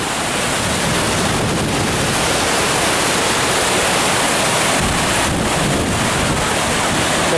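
Flood water of a stream rushes under a bridge after a heavy torrent, a loud, continuous roar of turbulent water with no breaks, heard close with some wind buffeting.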